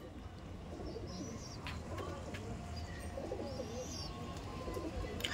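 Madrasi breeding pigeons coo softly in the background amid faint chirps and low ambient noise, with occasional fluttering sounds.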